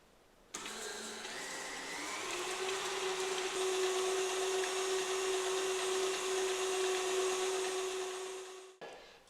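Electric mixer creaming butter and sugar together for fairy cakes, starting abruptly and whirring steadily at medium speed with a constant motor hum for about eight seconds before cutting off.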